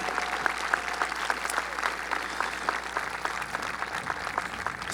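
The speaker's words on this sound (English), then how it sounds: "How about a final round of applause for all of our student speakers?" A graduation audience at North Muskegon applauds the student speakers, a sustained room full of clapping at steady volume for several seconds, with a few faint cheers in it.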